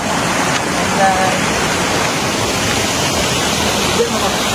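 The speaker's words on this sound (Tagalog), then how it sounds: "Papakita natin yung waterfalls." Bolinao Falls in Pangasinan pours down with a continuous broad rush of falling water, steady and fairly loud, with faint voices now and then beneath the roar.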